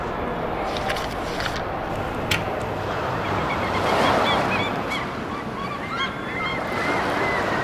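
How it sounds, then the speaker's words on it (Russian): Seagulls cry faintly by the sea, their calls rising intermittently over a constant wash of surf and wind. "Это чайки кричат?"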